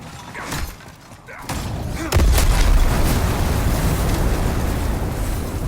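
Firestorm spell explosions in Demon's Souls Remake on PS5, a sudden deep booming blast followed by sustained rumbling roar, loud and close, after quieter game ambience.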